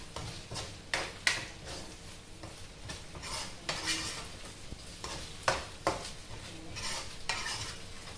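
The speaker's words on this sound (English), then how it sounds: "it's always important to keep stirring and keep flipping this" Egg fried rice is stirred and flipped in a pan with a metal spoon. It gives repeated irregular scraping and clinking strokes over a soft, quiet sizzle, and nobody speaks.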